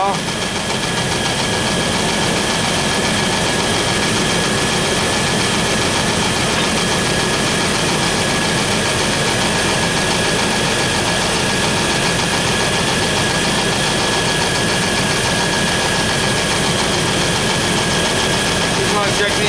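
A 4.3 V6 engine running steadily at idle with a constant, loud, close mechanical drone and a faint knocking texture that holds unchanged throughout.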